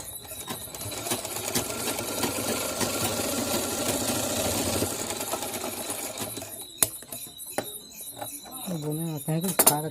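An electric sewing machine runs steadily through a seam on a katori blouse, a continuous whirring hum for most of the stretch, then stopping into scattered clicks and handling sounds near the end.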